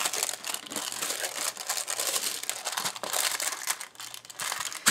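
Plastic bags crinkling and rustling continuously as art supplies are pulled out of them, loud and close with irregular crackling bursts throughout.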